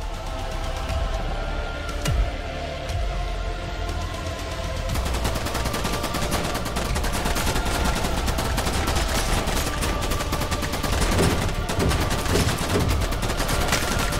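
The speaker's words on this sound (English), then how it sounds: "A shotgun turret." A shotgun turret fires repeatedly in the video game IDUN, its loud blasts coming in dense, rapid succession over a continuous rumble of combat.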